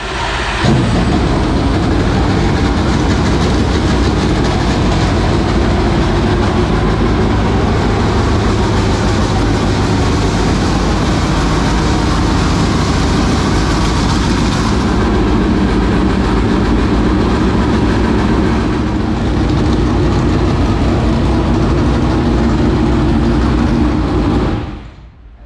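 A large engine roars steadily at close range for over twenty seconds, a dense, loud mechanical drone that cuts off at the end.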